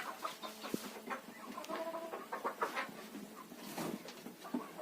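Laying hens of laying age cluck softly nearby in a series of short, irregular calls, fairly quiet and with no voices.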